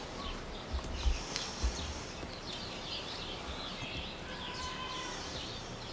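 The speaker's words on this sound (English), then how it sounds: "There was little birds." Small birds chirping in a home garden, faint high twittering calls scattered over a quiet outdoor background, with a few soft low thumps early on.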